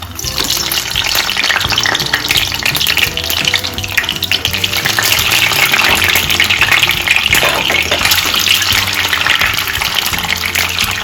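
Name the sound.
eggs frying in hot oil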